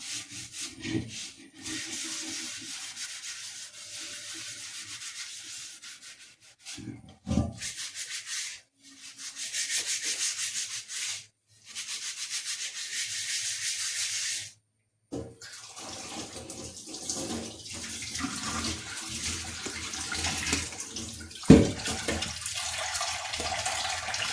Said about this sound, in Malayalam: ഇതിൻ്റെ ഉള്ളിലേ മാത്രം കഴുകിയാൽ പോരാ താഴോട്ടും കൂടി കഴുകിയെടുക്കണം